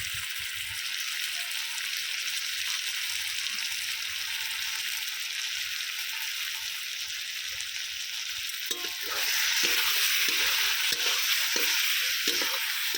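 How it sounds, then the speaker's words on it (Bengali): Mutton for a potato mutton curry is stirred and fried with spices in a kadai, a constant close sizzle that grows louder and busier near the end, with scraping stir strokes breaking through. "কিছুক্ষণ নেড়ে চেড়ে মাংসটাকে কিন্তু খুব ভালো করে কষিয়ে নেব"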